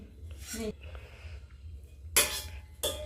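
Household plates and dishes clinking and rattling as they are handled after being washed, in two short bursts of clatter over a low background hum.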